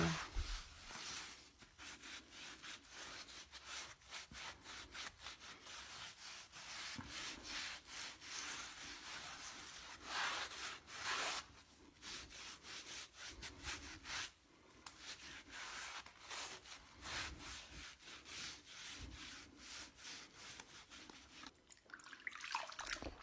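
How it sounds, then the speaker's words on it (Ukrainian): Steady rubbing and scrubbing of a wet rag wiping chalk whitewash off a ceiling in a clay house, continuous strokes with small pauses, quiet and close. "Беру тряпочку, макаю водичку і все це змиваю."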